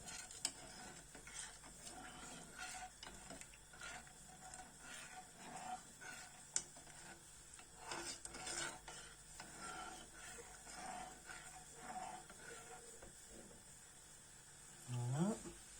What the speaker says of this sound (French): On mélange bien justement pour que le sucre soit bien fondu.